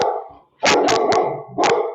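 A dog barks several times close by, a quick run of three sharp barks followed by another after a brief pause, with no talking.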